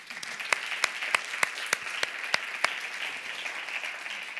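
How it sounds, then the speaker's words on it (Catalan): Audience applause at a live comedy show, with a crowd clapping steadily and several sharp, loud individual claps standing out in a rhythmic series up close during the first half, then settling into even clapping. "Un fort aplaudiment"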